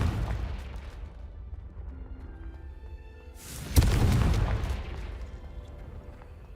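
Confringo blasting spell exploding in Hogwarts Legacy, a sharp loud burst around the middle followed by a rumbling roll that slowly fades, with fainter ambient tones before it.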